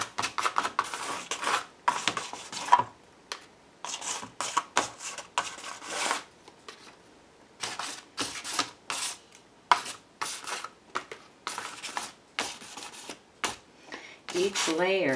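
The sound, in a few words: paper towel rubbed to smooth collage paper edges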